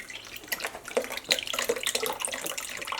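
Beef broth is poured into a slow cooker for lasagna soup, making a close, splashy, gurgling stream of liquid with uneven bubbly surges that lasts about three seconds, with no talking.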